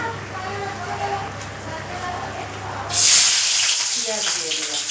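Onions hit hot oil for a sim patori (flat bean) dish, and the steady sizzle swells loud and bright, then keeps spitting and hissing under a voice speaking over the pan.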